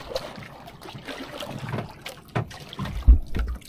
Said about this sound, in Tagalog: Ay, sagwan tayo.